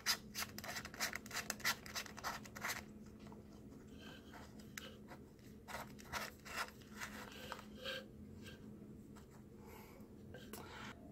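A 52 mm polarizing lens filter twists onto a GoPro Hero 5 aluminum case, giving a series of quick close scratchy rubbing clicks and scrapes, busier at first and then sparser, with no talk over it.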